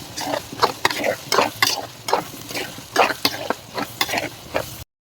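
A spoon scrapes steadily through a soy-chunk meal maker biryani mixture seasoned with salt in a pan, making a run of close, rhythmic stirring strokes and scrapes that stops abruptly into silence at the end.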